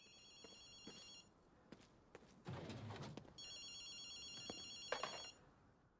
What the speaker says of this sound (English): Do you hear a phone? That's definitely odd.